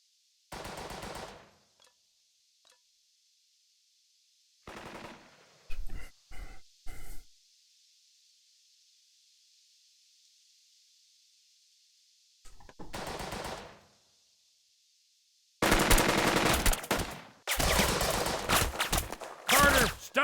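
Machine-gun fire in the WW2 game Burden of Command: loud, rapid bursts separated by silent gaps, growing denser near the end with several long automatic volleys.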